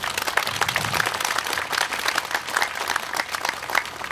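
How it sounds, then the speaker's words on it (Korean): A church congregation applauds warmly during an Easter worship service held in protest of a church seizure, a continuous crowd of hands clapping at close range, moderately loud and steady for the whole stretch. "강남 향림 교우들에게 따뜻한 위로의 박수 부탁드립니다"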